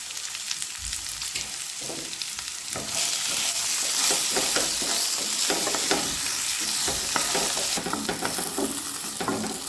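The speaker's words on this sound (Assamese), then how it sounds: "এতিয়া হালধি আৰু নিমখ এইখিনি দি অলপ সময় ভাজি ৰাখি" Potatoes frying with turmeric and salt for manimuni, an Assamese dish, sizzling steadily in a pan with repeated scraping stirs that grow louder partway through.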